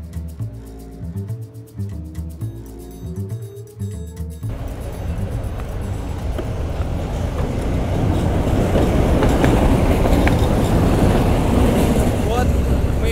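Train running on a railway near Irkutsk, Russia, with a steady rhythmic clatter of wheels over rail joints at first, then a broad roaring rush that grows gradually louder and fills the scene.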